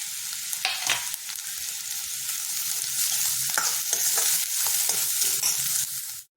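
Boiled vegetables and carrot, drained of water, are mashed smooth for cutlets: a dense, wet, squelching crackle, continuous and close, with small rhythmic pulses of pressing and stirring until it stops abruptly.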